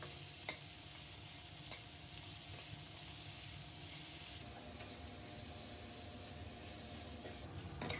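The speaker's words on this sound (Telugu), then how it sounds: "ఫస్ట్ కడాయిలో ఆయిల్ వేసుకుంటున్నాను. నెక్స్ట్ ఇందులోనే ఉల్లిపాయ ముక్కలు, పచ్చిమిర్చి చీలికలు వేసేస్తున్నా. ఇవి లైట్ గా ఫ్రై అవనివ్వాలి." Onions and green chillies frying lightly in oil in a kadai give a steady, soft sizzle throughout, with a few faint ticks and stirring clinks over the hiss.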